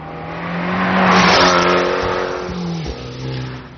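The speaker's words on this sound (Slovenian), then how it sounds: "pa še tako lepo poka, zvok avtomobila je itak vrhunski" A 2016 Abarth 595 Competizione engine revs loud and close. The note rises and holds, then dips briefly twice as gears change, with a continuous throaty roar and no voices.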